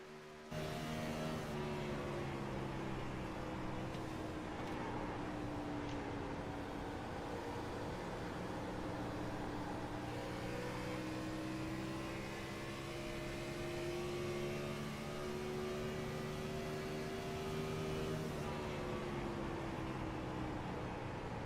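Onboard engine of race car number 82 drones steadily at high revs for the whole stretch, pitch sliding slowly up and down as it works a low groove, with a constant whirring wind and road roar.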